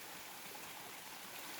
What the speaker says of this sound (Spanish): esta agua de aquí que ven aquí es la quebrada